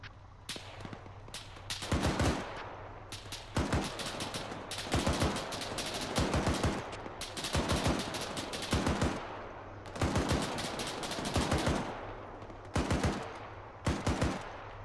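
Bursts of vehicle-mounted machine gun fire in the Arma 3 video game, repeated rapid volleys several seconds apart over a steady low engine hum, loud and close with no talking.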